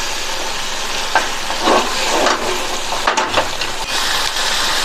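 Masala being stirred in a hot frying pan while making cauliflower kurma, with a steady close sizzle and intermittent scraping strokes of a spoon against the pan.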